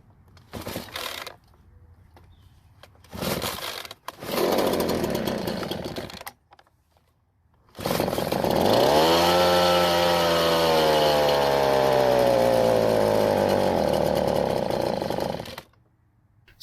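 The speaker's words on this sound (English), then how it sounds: "The first thing I want to do is start this blower and see the problem" A Ryobi backpack leaf blower with a cold-start running problem is pulled several times, sputtering in brief bursts, then catches and revs up to a loud sustained whine before cutting out.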